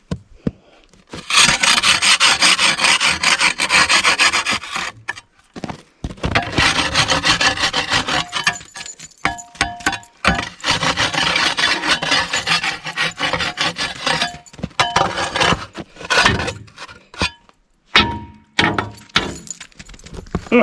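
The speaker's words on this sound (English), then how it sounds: "Got to scrape the snow out from under it." Scraping snow out from under a homemade maple syrup arch on frozen ground, heard as repeated close, loud rasping scrapes in bursts with short pauses and occasional thunks.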